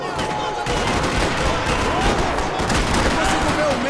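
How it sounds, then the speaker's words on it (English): Gunfire rattles through a parking lot in Max Payne 3, dense overlapping shots and bursts in a loud, continuous fusillade with no pauses. "Another parking lot rattling with gunfire."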